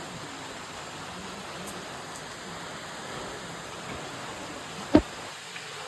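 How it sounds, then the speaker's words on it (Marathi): Rain falls near a river as a steady, even hiss of drops spread across the scene, fairly faint and continuous, broken once by a single sharp knock near the end. "आता पाऊस आलो म्हणजे आम्ही जरा थांबलो इथे."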